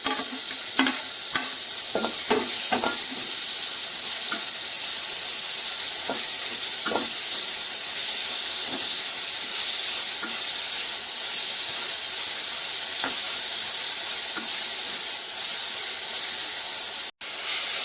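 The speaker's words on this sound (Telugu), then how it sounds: "దానికి టమోటా యాడ్ చేసుకొని కొంచెం సేపు వేయించుకోవాలి." Tomato frying with browned onions in a pan for cauliflower curry: a steady, hissing sizzle runs the whole time, with a cluster of scraping stirs early on and a few scattered ones later.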